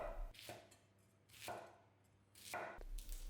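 Knife chopping through onion, celery, carrots and fennel for a mirepoix on a board, three distinct bursts of cutting strokes spaced about a second apart, fairly quiet and close, no talking.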